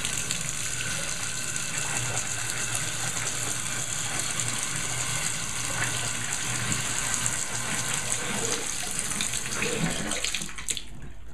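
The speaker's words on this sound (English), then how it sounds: "So we're going to turn on the water and" Water runs steadily from a bathroom tap into a just-unclogged sink drain, a continuous loud hissing gush that holds evenly throughout before cutting off abruptly near the end.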